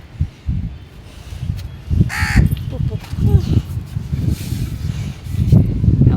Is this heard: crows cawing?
yes